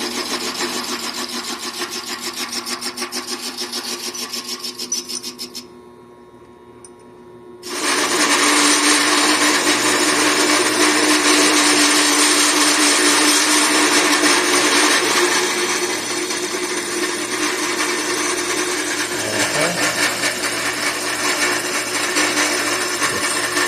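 Vevor 7x14 mini metal lathe cutting a groove in a metal washer, giving a loud, steady, harsh whine that drops out briefly for about two seconds, then resumes at full strength and runs on continuously.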